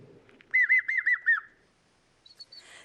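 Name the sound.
bird song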